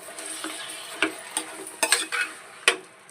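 Curry leaves stirred into a sizzling water-hen pepper fry, a spoon scraping the pan in several short, close strokes over a steady frying hiss, with no talking.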